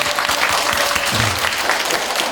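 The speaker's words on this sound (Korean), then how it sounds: "박수영 친구에게 감사한 박수, 격려의 박수 한번 보내주세요" An audience at a school anniversary talk concert applauds, with continuous, loud, even clapping filling the space and a brief voice underneath.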